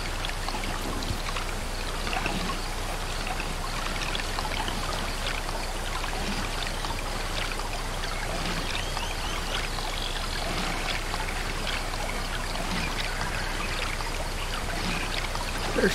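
A steady trickling stream of water in the game Ancestors: The Humankind Odyssey, continuous and even bubbling flow heard alone for the whole stretch, with no talking.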